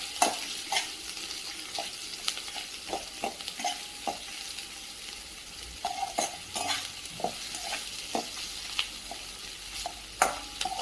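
Green chillies and onion being sautéed in a pan for a village-style potato sabzi, with soft sizzling under repeated spoon stirs and scrapes against the pan.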